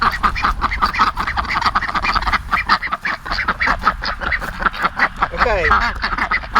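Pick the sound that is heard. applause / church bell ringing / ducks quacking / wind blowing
ducks quacking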